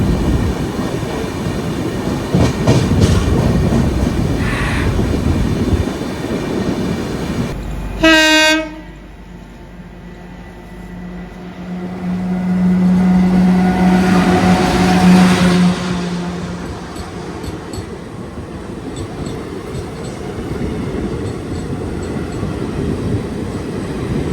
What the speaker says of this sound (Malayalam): ഇപ്പോൾ പോയത് ബിക്കാനീറിന്ന് സായ്നഗർ ഷിർഡി ഉണ്ടല്ലോ, അങ്ങോട്ടേക്ക് പോകുന്നൊരു സ്പെഷ്യലായി ഇപ്പോൾ പോയത്.